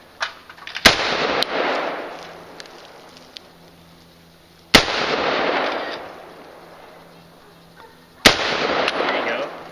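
Three loud, widely spaced gunshots from a Colt AR15 rifle with holographic sights, each a sharp crack followed by a long booming decay outdoors.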